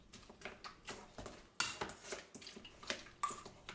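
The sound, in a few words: mashing washed strawberries for jam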